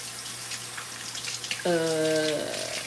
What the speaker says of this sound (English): I'm gonna rinse my hands off a little bit.